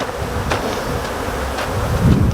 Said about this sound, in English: now we just need to leave this hive alone, and Jim will monitor them a little bit